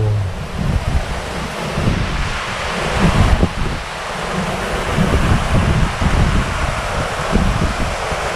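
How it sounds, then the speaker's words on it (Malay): Loud, gusting wind with rain buffets the microphone continuously at a fishing spot, roaring with broad rumbling bursts and a surf-like wash throughout, no voices. "Gila kuat angin."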